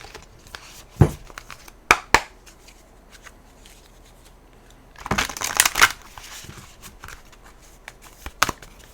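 A tarot deck is shuffled by hand close up, with quick crisp riffles and slaps, a dense rustling burst in the middle, and scattered taps between them.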